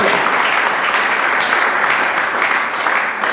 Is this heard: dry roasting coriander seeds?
no